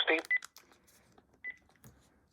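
Telephone keypad keys are pressed, giving a few short, bright DTMF beeps in separate bursts, with faint background sounds between them.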